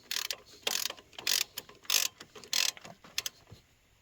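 Ratchet wrench tightening bolts on an A/C compressor of a Jeep Grand Cherokee 4.0, heard as close, bright bursts of rapid clicking in short irregular strokes with brief pauses between them.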